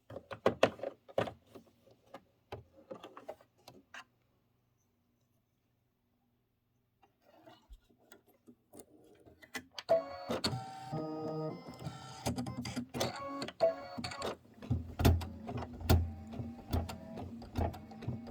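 A Kimberbell embroidery machine stitches apple stems in brunette thread for an autumn apple design, starting with scattered clicks and taps, going quiet for a few seconds, then settling into a loud, steady mechanical stitching rhythm.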